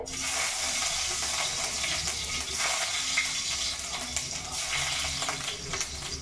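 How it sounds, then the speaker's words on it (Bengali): Chopped garlic fries in white oil in a pan, giving a steady, close crackling sizzle with soft stirring scrapes throughout, no voices. "সবার আগে আমি রসুন কুচি দেবো কোনো ফোড়ন দিচ্ছি না আমি সাদা তেলে"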